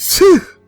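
A single short, sharp sneeze close by, a breathy intake followed by a quick voiced burst that cuts off.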